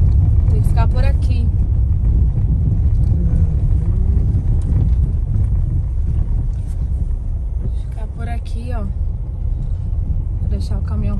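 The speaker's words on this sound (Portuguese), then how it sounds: "Vou deixar o caminhão passar." A truck passes on a narrow dirt road between Bahia and Minas Gerais, making a steady low rumble mixed with wind buffeting while people talk nearby.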